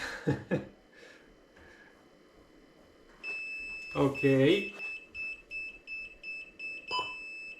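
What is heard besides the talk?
wireless camera beeping on power-up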